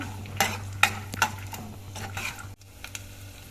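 Mustard seeds, cumin and peanuts roast in a pan for puliyogare. The seeds give scattered crackles and pops and the pan scrapes and clinks now and then, all over a low steady hum.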